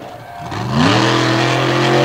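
A Renegade Monster Truck Tour truck at Beckley, WV revs hard into a donut, its engine climbing quickly in pitch and then holding a loud, sustained roar close by.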